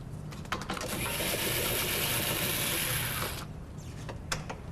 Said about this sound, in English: Loosen the 20 screws and bolts.